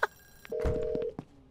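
A telephone in an office rings in short electronic bursts, one sustained tone after a few clicks, fairly quiet and alone without talk.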